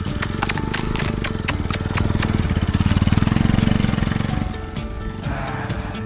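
Idling engine of a Bajaj Pulsar NS200 motorcycle at a hillside parking spot, a steady close rumble that swells slightly midway and settles, with no talk over it.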